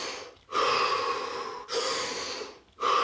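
Deep, slow breathing during a relaxation exercise, long loud airy inhales and exhales following one another in steady rhythm, close to the microphone with no talking.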